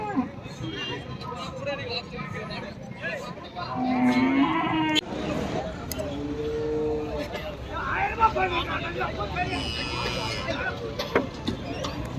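Cows and calves at the Karimangalam cattle market moo loudly and repeatedly, some close and some farther off, amid a busy crowd of people talking.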